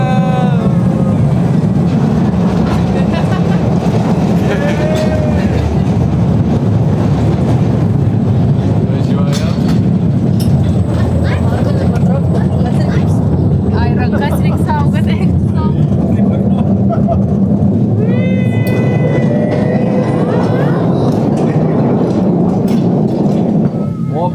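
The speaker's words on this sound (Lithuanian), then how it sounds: "Pažiūrėkit, koks traukinys mūsų." A small tourist train rolls along with a steady, loud mechanical rumble and rattle, with people talking over it throughout.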